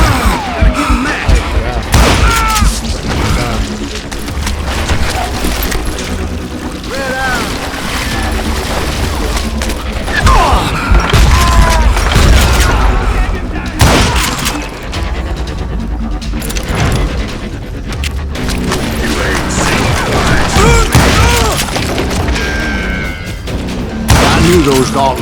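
Gunfire in Call of Juarez Gunslinger, loud repeated shots, crashes and booms mixed with shouting voices and game music throughout.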